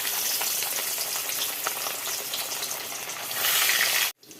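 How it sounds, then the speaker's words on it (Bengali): Fish fry in a pan with a continuous, dense crackling sizzle. It swells louder toward the end before stopping suddenly. "তো মাছগুলো এখন ভেজে নিই।"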